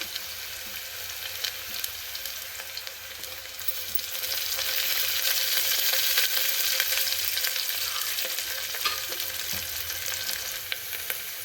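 Curry leaves sizzle and crackle in hot oil, a bright continuous frying hiss that swells midway, with light stirring scrapes.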